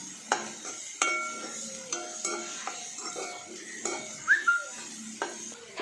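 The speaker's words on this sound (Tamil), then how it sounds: "இதோட பச்சை ஸ்மெல் போகிற வரைய நல்லா வதக்கிக்கணும்." Radish chutney with green chillies is sautéed and stirred in a pan, giving a run of light scraping and clinking strokes of a spoon against the pan over a soft sizzle, close and moderately quiet.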